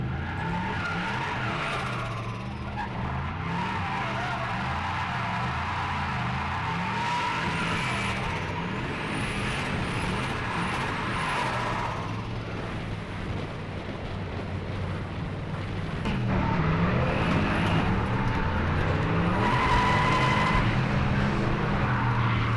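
Drift car at a Teesside circuit spinning out under too much handbrake, engine roaring steadily with skidding tyre squeal, then revving harder to drive off again in the last seconds; no one talks.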